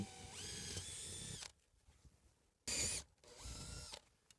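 A power drill spins up to drill holes for an attic gable vent, with two whining runs separated by a brief quiet pause and a short sharp burst between them.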